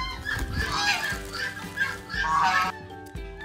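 Several geese honk repeatedly in harsh, overlapping calls, fairly close, with short pauses between bursts.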